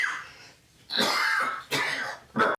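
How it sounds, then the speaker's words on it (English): Walter White, a middle-aged man in Breaking Bad, coughs harshly three times in close succession, a rough throat-clearing hack followed by two sharper bursts, loud and close with no talk. "every time he coughs"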